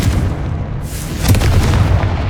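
A Confringo fire spell exploding in Hogwarts Legacy, a loud booming blast followed by a second burst, close and heavy, with no talk.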